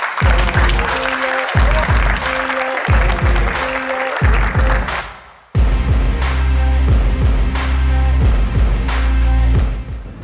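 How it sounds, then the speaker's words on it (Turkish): Applause at a motorsport awards ceremony at Istanbul Park greets a winning driver, dense and loud, with a rhythmic pulsing beat beneath it and a brief dip near the middle before it surges again. "Hep beraber alkışla Erhan Güzel."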